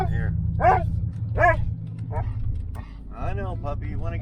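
A pet dog whines and yips repeatedly inside a vehicle, in short high rising cries, close and moderately loud over a steady engine hum, with a person talking in between.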